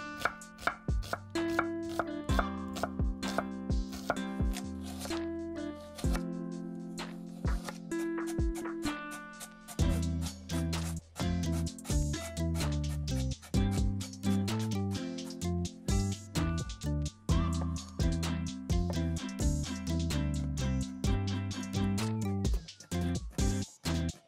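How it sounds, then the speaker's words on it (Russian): A knife chops onion, carrot and pickles into thin strips on a cutting board for a Tatar azu stew, a steady run of quick, sharp taps with brief pauses between batches. "И теперь нам нужно нарезать тонкой соломкой репчатый лук,"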